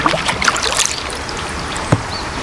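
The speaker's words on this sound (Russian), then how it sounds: "Да, шум воды, ручей, наверное." A stream rushes in the open during a long kayak trip on a river, a steady broadband wash of water, fairly close, with a few small splashes and knocks standing out against it.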